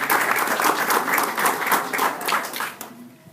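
Audience at a democracy symposium in Veracruz applauding steadily, a dense sustained clapping that fades out near the end.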